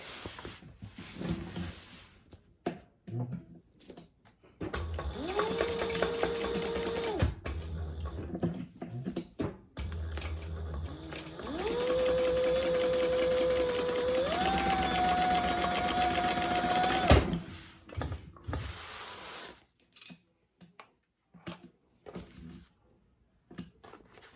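A sewing machine runs in two long bursts, basting roughly an eighth-inch stitch along a fabric bag, with a steady motor whine that shifts pitch and stops, framed by quieter handling noises.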